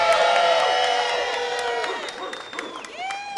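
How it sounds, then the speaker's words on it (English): A crowd at a city budget rally cheers and claps, loud whoops and shouts over applause that gradually fade, with whistled and voiced cries rising near the end. "Let's have a cheer and applause for everything that we have already won this year in the budget."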